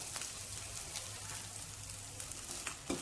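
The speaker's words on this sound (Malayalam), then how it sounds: "ഫ്ലെയിം ലോയിൽ വെച്ച് വേണം ഫ്രൈ ചെയ്യാൻ." Soft, steady sizzle of frying over a low flame while making mutton gravy, a faint continuous crackle with occasional light pops and no voices.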